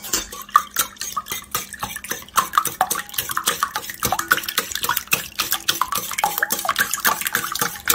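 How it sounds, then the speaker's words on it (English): Eggs with lemon juice being whisked in a bowl, a rapid, steady run of light clinking taps of the whisk against the bowl, close and continuous without talk. "I'm going to whisk the eggs."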